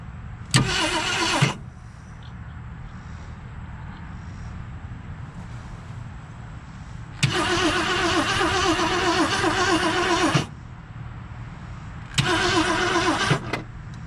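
A Ford Galaxie engine cranks in three separate bursts, a short one early and two longer ones later, with a steady low hum between attempts. The engine doesn't clearly catch.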